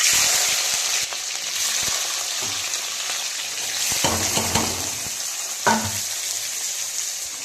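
Onion and capsicum fry in a pan for chow mein, a steady broadband sizzle running throughout with a few clinks and stirring knocks near the end.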